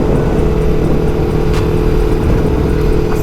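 A Kawasaki Versys 300X motorcycle on an off-road ride, its engine droning steadily and loud and close with a low rumbling hum throughout, plus a brief lift in pitch as the rider rev matches, with wind noise and no speech.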